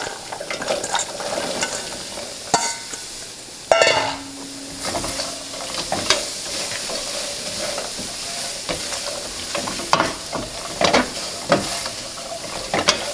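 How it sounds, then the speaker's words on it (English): Green beans sizzle and crackle steadily in a hot pan, with occasional clinks and scrapes of a utensil stirring them. "That's hit the hot pan, I'm gonna add my green beans"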